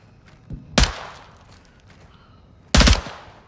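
Two short bursts of video game gunfire ring out, one near the start and one near the end, loud and sharp with a quiet gap between them.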